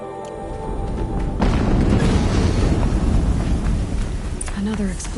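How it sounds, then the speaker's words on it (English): A rumbling in-game explosion in Horizon Zero Dawn, loud and sustained as a broad roar over several seconds, mixed with other game sounds. "Another explosion."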